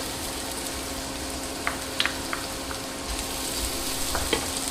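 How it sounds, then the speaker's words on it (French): Garlic sizzling and frying in a pan with Brussels sprouts and chorizo: a steady, close crackle with a few sharp pops and stirring clicks scattered through it. "Allez, je verse l'ail."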